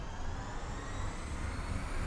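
Two electric motors drive a vehicle in the Gearblocks video game, giving a steady, dense, jet-like roar with a low rumble underneath. It holds at an even, moderate level throughout without a break.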